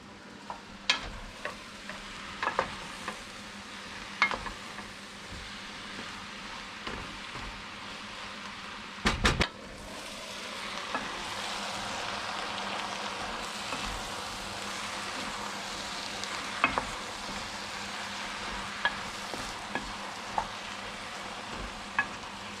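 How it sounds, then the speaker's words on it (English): Mushrooms and onions cooking down in a pot for Hungarian mushroom soup, a soft continuous sizzle with occasional stirring clicks and one louder clatter partway through; no talking. "to cook down your mushrooms and your onions, we're going to be targeting about 15 minutes for this step."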